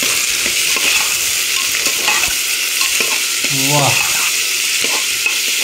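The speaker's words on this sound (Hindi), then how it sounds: "अब इसको बढ़िया से कर लेते हैं मिक्स।" Bhuna mutton masala stirred and frying in a pan, a steady close sizzle with scraping stir strokes throughout, one brief spoken exclamation midway.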